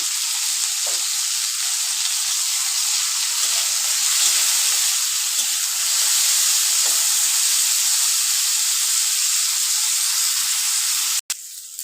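Bitter gourd (karela) slices frying in oil in a pan with a little salt, giving a steady, loud sizzle that holds evenly throughout and cuts off briefly near the end.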